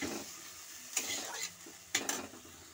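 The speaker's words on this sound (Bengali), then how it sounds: "দিয়ে এটা একটু নাড়তে হবে।" Mustard paste mixed with chilli powder and water stirred in a pan, with a soft steady sizzle and a few short scraping strokes of the spoon, close and fairly quiet.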